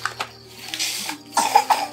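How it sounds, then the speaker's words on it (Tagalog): Children cough a few times at close range, soft and brief, over a low background hum with faint scattered sounds. "Uy, inuubo pa yung mga bata."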